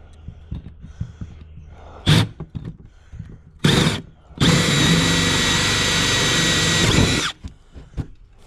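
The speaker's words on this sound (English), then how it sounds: "Oh, there goes my drill." A power drill whirs in short bursts, then runs steadily for a few seconds at close range, with light clattering and handling noise around it.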